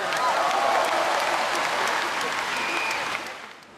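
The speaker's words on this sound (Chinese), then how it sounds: "马晓晴，掌声欢迎他" Audience applause welcomes 12-year-old Hong Kong figure skater Ma Hiu Ching at a Shenzhen ice show, a dense, steady wash of clapping from a large crowd that fades toward the end.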